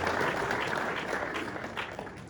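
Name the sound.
audience applause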